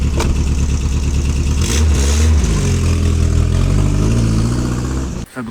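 A Peugeot 206 car engine revs loudly and unevenly close by, sputtering and stumbling as if choking, before briefly cutting out near the end; the engine is out of tune.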